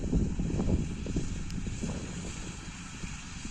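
Low, steady engine rumble from a John Deere 952 combine harvester threshing soybeans, buffeted by gusty wind noise throughout, with no voices.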